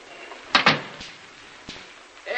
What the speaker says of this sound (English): who's opening and closing the door out there?